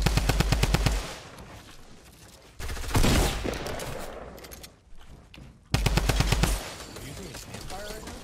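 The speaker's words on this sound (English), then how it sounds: "Oh my god, yeah, there's people shooting." Rapid automatic gunfire in the video game Fortnite, loud close bursts of machine-gun shots with a heavy low thump, recurring between stretches of other game noise while a voice talks.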